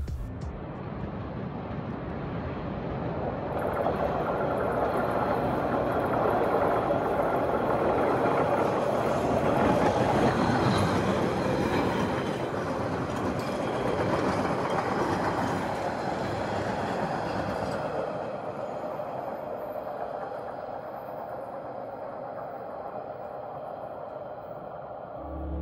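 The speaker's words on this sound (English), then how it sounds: "the sound that the cars emitted when rolling over the tracks that were laid on the concrete" A Boston MBTA Orange Line subway train rumbles loudly over tracks laid on concrete in a continuous, heavy roar that swells, holds, then eases slightly as the cars keep rolling past.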